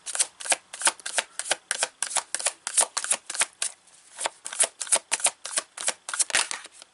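Tarot cards being shuffled by hand, a rapid series of crisp riffling bursts repeating steadily, close and clear with no talk over it.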